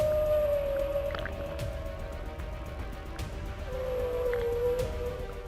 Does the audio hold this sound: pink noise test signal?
no